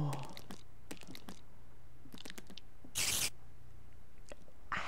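Small spider mobs scuttling around in the Minecraft video game, heard as quick faint patters and scratchy clicks in scattered bursts, with a brief louder rustling burst near the middle over a low steady hum.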